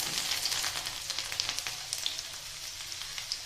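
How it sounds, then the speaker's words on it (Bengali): Cumin seeds and chopped garlic fry in hot white oil in a wok, giving a steady, fairly quiet sizzle dotted with small pops and crackles, with no one speaking. "জিরেটা ফুটে গেলে আমি দিয়ে দিচ্ছি কিছুটা রসুন রসুন কুচি"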